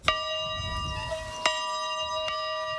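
An old schoolhouse bell tolls three times, close and resonant, each strike ringing out with a long, shimmering decay that overlaps the next, with no one talking.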